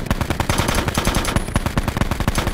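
Rapid automatic gunfire in a Call of Duty match on the Nuketown map, a dense, steady burst of shots sounding loud and close, with no talking.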